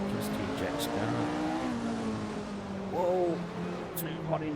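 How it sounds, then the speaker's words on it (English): Engine of a 1967 Formula 1 race car at the German Grand Prix, a rising and falling whine with gear changes, heard under a voice talking, with brief bursts of wind noise. "Just hear Jack's car"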